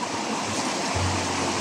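River water rushes steadily, a broad unbroken roar close by with a low hum underneath, no voices.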